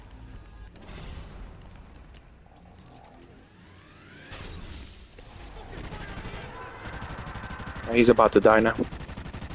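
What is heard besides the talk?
gunfire shooting an enemy in video game Exodus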